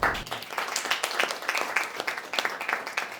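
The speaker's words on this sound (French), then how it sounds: "Je demande aux pépites de se joindre à vous pour l'accueillir en applaudissant très fort." Audience at a Burkina Faso business partners' meeting applauds loudly to welcome a guest, a steady dense patter of many hands clapping throughout, with faint voices underneath.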